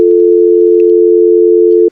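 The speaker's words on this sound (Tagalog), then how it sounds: "kasama si Mang Ben, isang hindi inaasahang tawag sa telepono ang natanggap ng binata mula sa ospital sa Taguig" Steady telephone call tone, a single continuous electronic beep held for about two seconds, loud and clean, then cut off abruptly.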